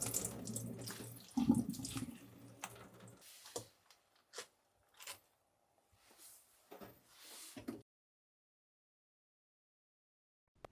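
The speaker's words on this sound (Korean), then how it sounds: "함께 절여진 겉잎도 잘 씻어 물기를 빼줍니다." Running tap water splashes into a sink as salted cabbage outer leaves for kimchi are rinsed, a steady close wash for a few seconds, then broken bursts of water and handling before the flow stops and it goes quiet.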